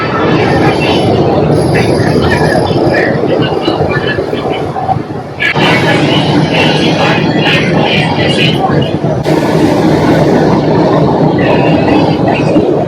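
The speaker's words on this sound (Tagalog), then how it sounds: "Ito na yung sakayan ng pick tram." Hong Kong Peak Tram running, a loud continuous rumble of rail cars with wheel noise and squeals, broken by brief changes in the roar, while people talk nearby.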